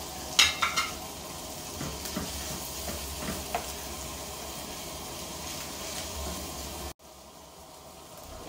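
Ground pork frying and being stirred in a pan for a string bean dish, with a steady close sizzle, a few utensil scrapes and clinks near the start, then a sudden quieter stretch near the end.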